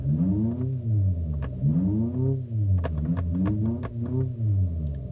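An Abarth 500e electric car plays a synthetic petrol engine sound, imitating an Abarth 595/695, through its external speakers: a droning tone that swells and falls in repeated rev-like sweeps, with a few sharp clicks and no talking.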